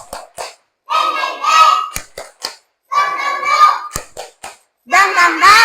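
A classroom 'tepuk semangat' clap chant: sharp hand claps in quick rhythmic bursts alternate with children's voices chanting in unison, loud and close, call-and-response style.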